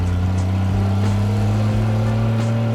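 A kit car powered by a 1960s Triumph Vitesse engine drives along a road through a cricket pitch, its engine a steady, loud, low-pitched hum with slight rises in revs from inside the car.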